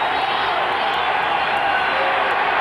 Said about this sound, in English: Crowd comes to life.